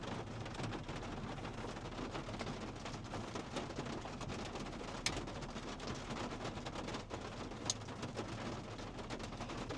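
Rain falls during a thunderstorm on a storm-chasing drive, a dense steady hiss with a low rumble underneath and a couple of sharp cracks, no voices.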